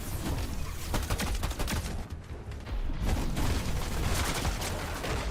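Automatic gunfire sprays in a Fortnite-style battle royale match, a dense continuous barrage of rapid shots that stays loud throughout, dipping briefly before resuming at full intensity.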